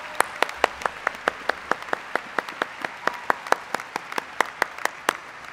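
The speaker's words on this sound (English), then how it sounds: "How about a big round of applause for our faculty?" Clapping at a McCombs School of Business winter commencement, honoring the faculty, heard as a run of distinct, sharp claps at a fairly regular rhythm, close and crisp rather than a dense crowd roar.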